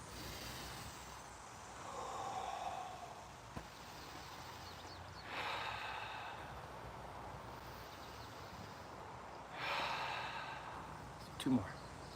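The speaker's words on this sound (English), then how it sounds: "catch my breath, which means just taking a couple deep breaths" Deep breaths after bootcamp exercise, slow whooshing inhales and exhales roughly every four seconds, close and fairly soft, with a short sniff near the end.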